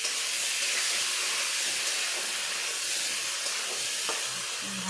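Oil sizzling steadily in a pan as spice paste fries for a Bengali gulsha fish curry with potato and tomato, a broad continuous hiss close and fairly loud throughout, with no talk.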